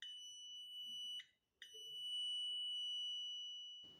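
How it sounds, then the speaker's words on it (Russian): A non-contact voltage indicator gives a steady high-pitched electronic tone, interrupted by one short break near the middle before sounding again, with no speech. "Индикатор напряжения при этом имеет звуковой сигнал"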